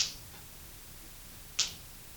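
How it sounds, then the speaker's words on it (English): Two sharp finger snaps, close and crisp, separated by about a second and a half of quiet room tone. "so I'm going to snap my fingers twice"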